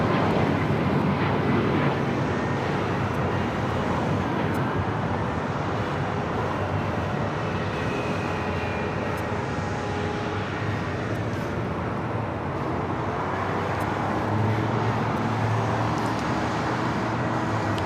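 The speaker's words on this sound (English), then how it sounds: "That was Alaska Airlines flight 1340, 737 at max 9." An Alaska Airlines Boeing 737 MAX 9 jet roars loudly and steadily near a runway at LAX, a broad sustained engine rush with road traffic noise mixed in and no speech.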